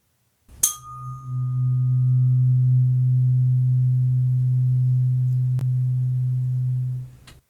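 A steady 126.22 Hz sine tone tuned to the solar plexus hums low and pure for about six and a half seconds, starting with a soft click and ending abruptly, with no voices over it.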